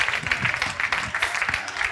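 A church congregation applauding together, a steady dense patter of clapping throughout, with voices faintly mixed in.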